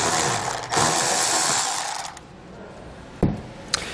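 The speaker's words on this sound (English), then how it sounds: "you can go ahead and remove the last bolt on the bottom and fully remove the mud flap" A hand ratchet works the bottom bolt loose on a truck mud flap, its clicking pawl rattling steadily and close, broken by a few sharp metallic knocks as the bolt comes free.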